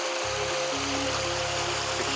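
Mountain stream near its source with small waterfalls and snowmelt, a continuous close rushing and splashing of water, steady and fairly loud through the short stretch.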